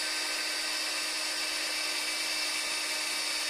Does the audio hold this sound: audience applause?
no